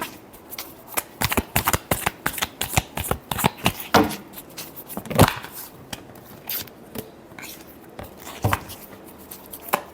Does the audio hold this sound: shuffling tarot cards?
yes